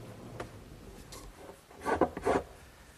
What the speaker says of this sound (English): I'll clean that up with a wood rasp back at the bench vise